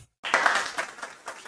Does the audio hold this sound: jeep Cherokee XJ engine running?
no